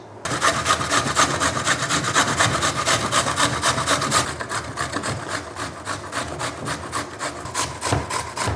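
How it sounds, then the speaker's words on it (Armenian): Zucchini, carrots and potatoes rubbed fast against a kitchen grater, a steady loud rasping scrape in quick repeated strokes that continues without pause, close up and with no voices. "Հիմա արագ քերում ենք ու անցնում առաջ։"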